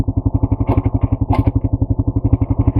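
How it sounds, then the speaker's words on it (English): An ATV engine downshifting while riding, a loud close chugging exhaust with a fast steady pulse and rattling clatter, continuous throughout. "I got a downshift here."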